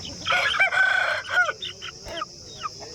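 A four-to-five-month-old native country rooster at a poultry market lets out a loud, scratchy crow close by, then trails off into a few short clucks and squawks.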